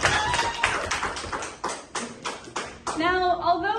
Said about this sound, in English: Let's give her a round.